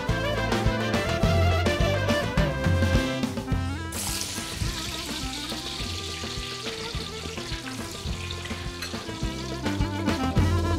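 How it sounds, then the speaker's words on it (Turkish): Loud, steady sizzling of potatoes frying in a pan, a dense crackling hiss that carries on without pause. "Şimdi patateslerimizi kızartıp servise alıyoruz."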